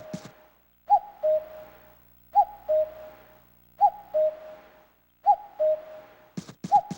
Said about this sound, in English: it has constant cuckoo sounds that never ever stop and never go away.